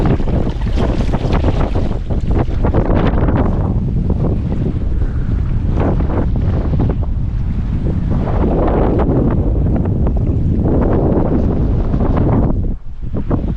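Strong coastal wind at Shark Bay, Australia buffets the microphone in loud, steady gusts, with a roar that barely lets up and a brief dip near the end.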